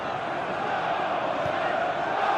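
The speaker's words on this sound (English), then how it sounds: "Come on, Wanderers, the cry around Molineux." A football crowd at Molineux during a Wolverhampton Wanderers FA Cup match against Liverpool roars steadily, filling the stadium with a dense, sustained wash of voices chanting in unison, loud and unbroken throughout.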